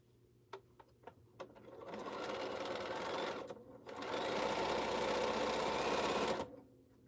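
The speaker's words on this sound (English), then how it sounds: "Look at me sew." A sewing machine stitches quilt end caps: a few short taps start it, then it runs in two sustained bursts of steady whirring with a brief pause between, up close.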